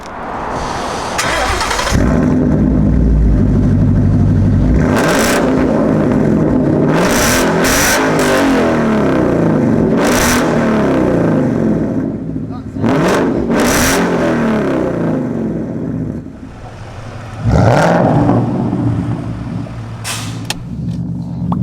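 A Ford Mustang with a straight-through exhaust revs hard and accelerates, loud and close, with repeated sharp throttle blips rising over a deep, rumbling idle and a sustained roaring pull.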